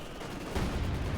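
Machine gun fire from a Maxim position in the World War II strategy game Company of Heroes 2, a brief steady rattle of automatic fire heard alone.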